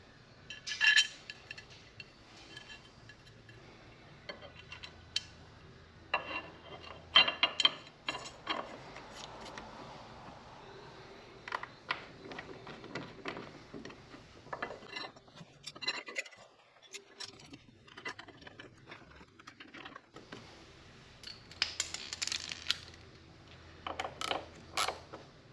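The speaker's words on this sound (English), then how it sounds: "Tighten just enough so the bolt doesn't move anymore." Bolts are tightened on Kawasaki Ultra jet ski KSPEED racing sponsons. Faint metallic clinks, creaks and tool ratcheting come in irregular bursts, fairly close but quiet.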